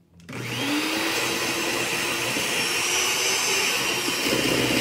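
An electric mixer switches on and whirs steadily at high speed through pineapple cake batter, a loud, close, continuous motor drone with no talk.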